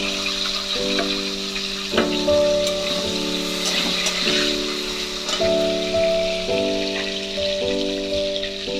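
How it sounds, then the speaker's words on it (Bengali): Potatoes fry in hot mustard oil left from frying fish, a steady close sizzle and crackle running throughout with light stirring clatter over a background drone. "আলুগুলোকে সুন্দর লাল করে ভেজে নেব"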